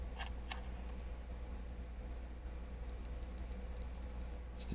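Original Omron switches in a Logitech G604 mouse clicking: a few sparse, sharp ticks scattered over steady background hum, faint and close.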